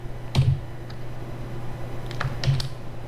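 Quiet keystrokes on a computer keyboard, a few scattered clicks over a faint steady hum. The taps come close by and at a moderate level, with no talk.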